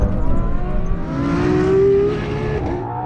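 A Ferrari Enzo or LaFerrari accelerates hard in fourth gear from 50, its engine loud and close with a sustained rising roar that swells and then eases back slightly, with no talk over it.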